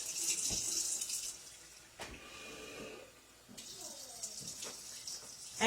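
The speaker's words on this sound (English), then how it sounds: "let's go ahead and put 1/2 cup of hot water" Hot water is poured into cups in short bursts, with a splashing, trickling flow that stops and starts, and a voice speaking between the pours.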